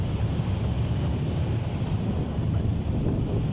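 Ship travelling across open sea toward Pulau Aceh, a loud continuous wash of waves and engine rumble buffeted by heavy wind noise on the microphone, with no talking.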